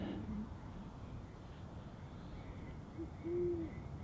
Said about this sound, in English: I believe that's either going to be a great horned owl or an eastern screech owl